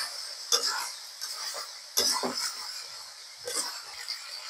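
Duck meat being stir-fried in a pan with garlic, onion and ginger paste, with soft sizzling and a few scraping stirs of a utensil, fairly quiet and close.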